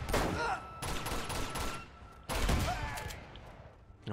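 Rapid bursts of gunfire in the video game Uncharted 2: Among Thieves crackle and boom in dense volleys, loud and continuous, with a sharp explosive blast partway through.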